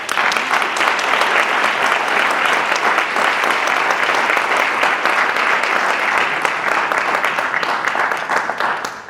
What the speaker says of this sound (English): Everyone, please give the candidates another round of applause.